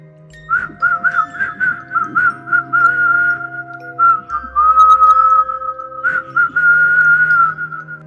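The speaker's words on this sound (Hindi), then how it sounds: "सीटी बजाना बहुत अच्छा बजाता है तू" Someone whistles a steady tune in a horror story setting, a sustained melodic whistle running for several seconds with brief pauses, loud and close with no talking.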